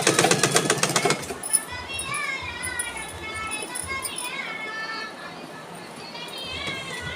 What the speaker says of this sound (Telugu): కొత్త కొత్త డ్రెస్సులు అన్నీ కుట్టుకోవాలి, అందుకే కుడతాను మేము